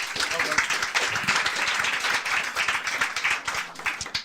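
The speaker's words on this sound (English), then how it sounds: "Ladies and gentlemen, round of applause for that." A round of audience applause at a comedy-style show, a continuous wash of clapping hands held at an even level, with voices mixed in beneath it.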